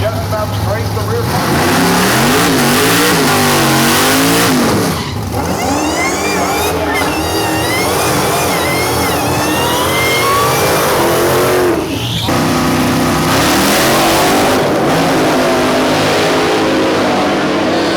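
LS-swapped 1970 Chevrolet Nova revving hard in a donut pit, loud rising and falling engine wails with brief lifts between pulls, crowd voices mixed in.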